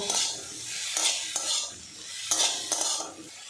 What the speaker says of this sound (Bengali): মুসুর ডাল দিয়েছে, আরও একটু নাড়াচাড়া করে নেব